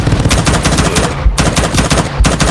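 Loud, rapid automatic M4 rifle fire on the Nuketown map in the VR game Call of Duty VR, a fast stream of sharp close shots that breaks off briefly near the middle.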